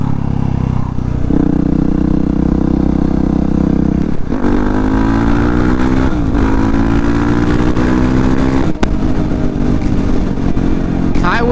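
Yamaha WR450F supermoto motorcycle engine drones steadily at highway cruising speed in fifth gear, a loud, constant hum with rising pitch shifts and wind rush throughout, close to the rider.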